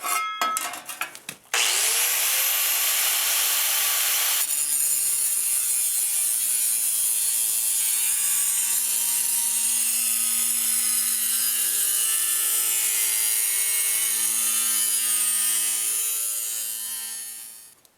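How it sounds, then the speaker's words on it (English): A brief clatter, then a racing mower part is cut and shaved down in a long, loud, steady grinding pass lasting over a dozen seconds before tapering off abruptly. "if I cut this back, shave it down, and set it back in there"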